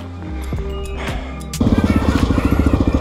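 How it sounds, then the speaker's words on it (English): A dual sport motorcycle rides through sand and loose gravel in Death Valley, its engine loud and close, then surging into a rapid pulsing throttle drone partway through. "Front end on this bike is pretty squirrely in the sand. And loose gravel."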